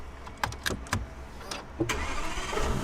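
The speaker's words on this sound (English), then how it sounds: "that starts up the car" A Lagonda Taraf luxury saloon is started by pushing its key in; a short crank and clicks lead into the engine catching and settling into a close, steady idle.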